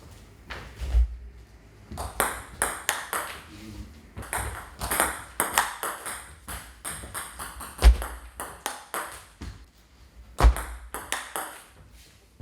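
A table tennis ball is struck with flick shots during a doubles receive drill, giving sharp, bright pocks and quick bounces on the table in irregular clusters, close and clear in a quiet indoor hall.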